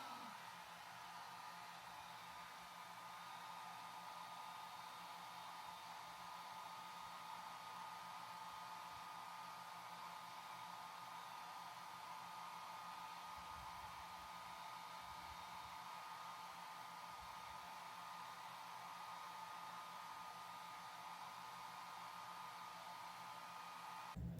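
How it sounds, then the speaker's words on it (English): A blow dryer runs steadily throughout, a constant whooshing roar with a faint motor whine, close and unbroken for the whole stretch. "Push and seal everything down my blow dryer if I can find where my blow dryer is."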